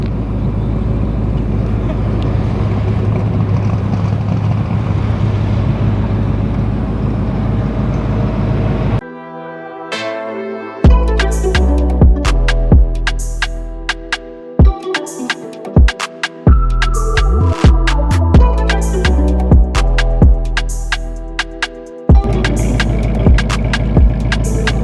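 A Whipple supercharged Ford Mustang Dark Horse roars on a dyno, a low steady idle rumble giving way to loud climbing revs through gears, with sharp shifts and pops before settling back to idle.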